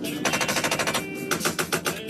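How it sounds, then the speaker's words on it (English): Failing actuators clattering in rapid bursts that sound like machine-gun fire, a loud, fast stuttering rattle that pauses briefly and then resumes. "Actuators are going out, so it sounds like I'm having a hell of a firefight in here."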